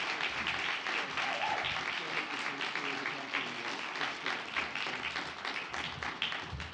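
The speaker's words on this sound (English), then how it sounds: "let's give a big round of applause for this guy as your MC" An audience at a celebration event gives a steady, full round of applause that continues throughout, fairly distant in a large room.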